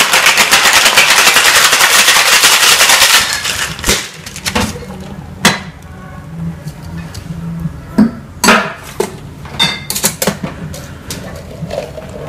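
A big block of ice being broken, starting with a dense burst of rapid crushing and scraping, then a series of sharp, separate cracking hits spaced a second or two apart, close and loud.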